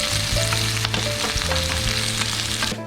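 Four chopped onions go into hot coconut oil for Kerala-style tapioca biryani, bringing up a loud, dense, continuous sizzle with hum-like tones and a few clattering stir strokes, close up.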